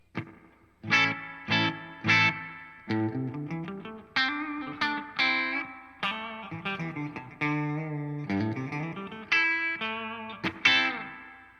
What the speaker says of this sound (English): It's a nice spring reverb. That's more reverb than you're gonna need.